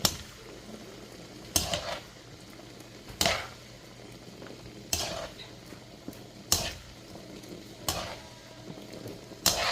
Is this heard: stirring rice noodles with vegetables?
yes